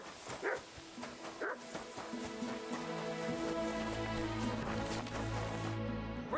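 Dogs in the video game Kingdom Come: Deliverance II bark and yip in short bursts early on, then whimper and whine over a steady, busy game background with music, fairly close and moderately loud.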